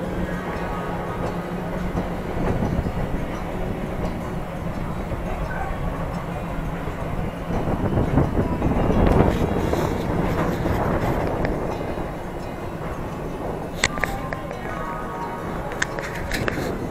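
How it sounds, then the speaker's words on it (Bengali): A train pulls away from Howrah station and runs steadily with a continuous rumbling roar and rattling carriages, loud and close throughout, with a few sharp clicks near the end. "ট্রেন চলার একটা সুন্দর শব্দ আছে।"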